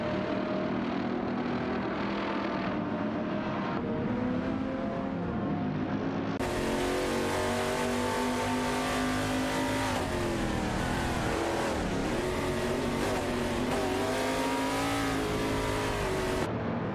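Engines of Panos Espoon GTLM Evo race cars in a racing video game, a steady loud drone of revving and shifting as cars battle for position, pitch rising and falling through gear changes, with no talk.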